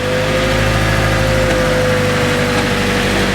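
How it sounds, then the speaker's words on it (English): A turbocharged Honda K24 engine swapped into a Mazda RX8 track car runs steadily nearby with the wheels turning, a loud, continuous droning hum with a steady whine over a deep rumble. "Can we make the wheels go around just to prove that it might work?"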